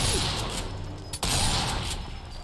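Shotgun fire in Sniper Elite 4 rings out as a sharp, loud blast around mid-clip, surrounded by a noisy, rumbling battlefield background without speech.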